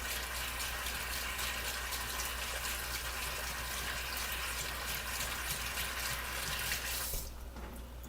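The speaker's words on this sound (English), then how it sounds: "you can hear my water running because I'm going to go right to the sink" Water runs steadily from a kitchen sink tap, a continuous broadband rush that carries on unbroken and then drops away abruptly near the end, with no talking over it.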